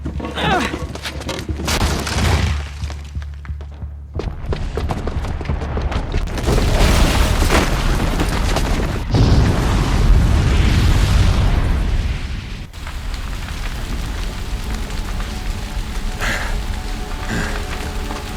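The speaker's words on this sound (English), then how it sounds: "the booby trap on the bomb downstairs is gonna get set off" A bomb blast in Horizon Zero Dawn erupts into a long, loud rumbling roar of debris and crackling noise that swells, then settles into a sustained low drone, with no one speaking.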